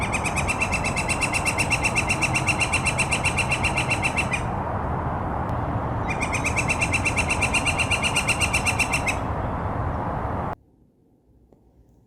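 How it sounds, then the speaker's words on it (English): Northern flicker calling in two long, rapid series of ringing notes, loud and close, with a pause between bursts and no talking over it. "Here's the northern flicker's call."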